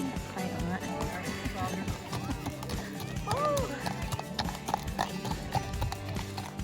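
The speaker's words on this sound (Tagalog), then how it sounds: "Ang laki ng kabayo." A large horse with a jockey clip-clops along a mountain road among crowds and children, its hooves steady and close under constant chatter and loud outdoor background noise.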